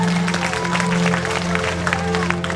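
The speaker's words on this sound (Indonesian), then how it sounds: "Tepuk tangan buat Banser." A gathering claps for the Banser members, a busy patter of hands over a steady low hum, with a few voices mixed in across the short burst.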